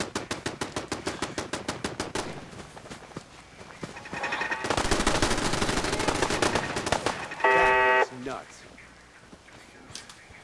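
Gunfire in Fallout 4 opens with a fast string of evenly spaced shots, followed by a louder dense blast of noise and a short buzzing burst, with a voice talking through parts of it.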